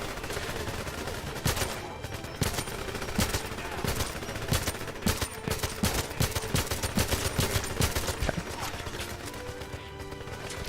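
AK rifle fire in a video game crackles in rapid, uneven bursts of sharp shots over a busy background, with a voice speaking intermittently underneath.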